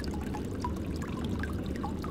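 Water trickling and pouring steadily in a cave area of the Shadowgate remake video game, a continuous low liquid wash with faint drips, close and even throughout.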